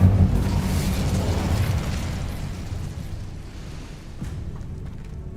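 In the video game Hogwarts Legacy, an Incendio fire spell lets out a loud whooshing burst that roars at the start and then fades slowly into a rumbling crackle.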